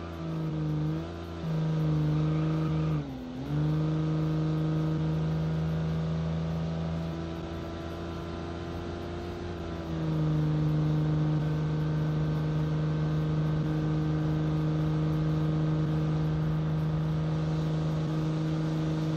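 A 1955 V6 pickup truck engine in the BeamNG driving simulator, revving and accelerating in a long steady drone with pitch dips at gear changes, close and continuous with no talk.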